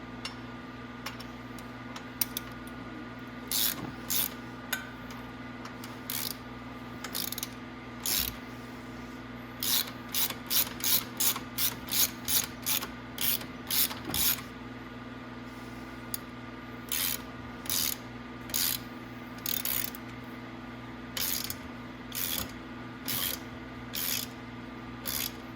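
Ratchet wrench tightening bolts on the rear end of a Venom 1500W E-Grizzly electric ATV, quick bursts of rapid clicks repeated in short runs over a low steady hum, faint and close.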